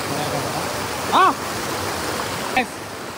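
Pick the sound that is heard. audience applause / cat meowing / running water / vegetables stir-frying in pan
running water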